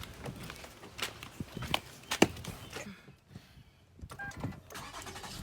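A car engine cranks and catches after a new battery has been fitted, a brief starter whir followed by a quiet idle, with a few clicks and footsteps around it.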